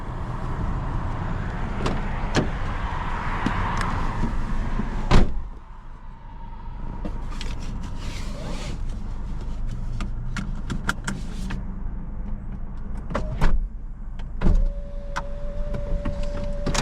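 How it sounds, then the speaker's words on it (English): A car's interior sounds as it rolls along a Florida road, with a steady low road rumble, an electric window whirring, and a few clicks and thumps. "I'm gonna take a little drive down this road."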